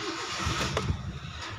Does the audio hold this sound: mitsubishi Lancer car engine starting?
yes